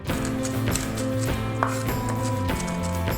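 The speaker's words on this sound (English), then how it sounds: "then I'm also going to toss in a couple of garlic cloves to my pile here, and then I'm gonna run a knife through everything" A knife chopping garlic cloves with salt and pepper on a cutting board, with rapid, regular thuds in a close, steady rhythm and no voices.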